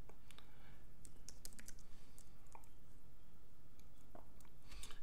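Clicks from a computer keyboard being typed on, arriving in short irregular bursts, close and fairly quiet, with no talking.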